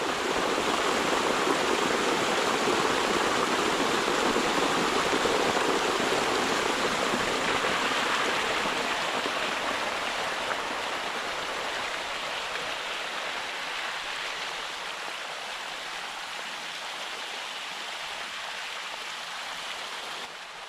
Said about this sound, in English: Man, that's a lot of water.